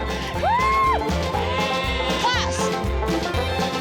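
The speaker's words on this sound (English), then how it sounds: "Some of the sheep were pretty fast, surprisingly so." Several sheep bleat loudly nearby, with wavering calls rising over a busy background of movement and voices.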